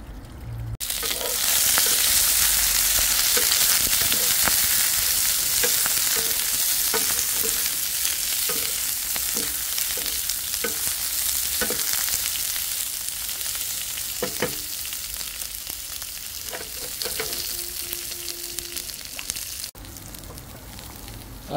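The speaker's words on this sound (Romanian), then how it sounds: "Și o dată prăjim ardeiul." Peppers fry in olive oil in a pan over high heat, giving a loud, continuous close-up sizzle with occasional stirring clicks and no speech.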